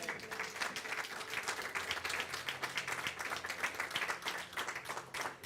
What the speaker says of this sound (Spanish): ¿Cuánto le dan un aplauso al Señor?